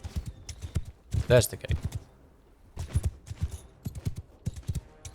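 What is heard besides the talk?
horse hooves clip-clopping in Mount & Blade II: Bannerlord video game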